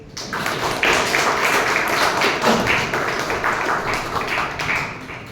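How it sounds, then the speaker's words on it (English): Loud, sustained applause from a large Toastmasters meeting audience welcoming a keynote speaker, dense steady clapping filling the whole stretch with no talk over it. "please welcome with a thunderous applause our keynote speaker, Toastmaster Bakul Joshi"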